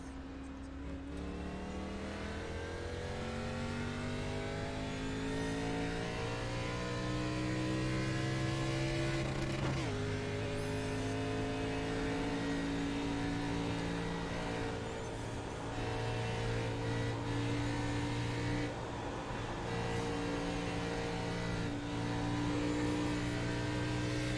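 ARCA stock cars, the old NASCAR Cup Series cars, racing at New Daytona under the lights in iRacing, with engine drones climbing in pitch through gear shifts, steady and loud throughout, no talking.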